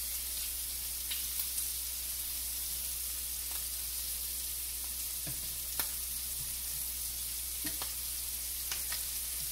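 Large shrimp fry in a skillet with a steady, close sizzle that runs unbroken throughout, broken by a few faint ticks and pops.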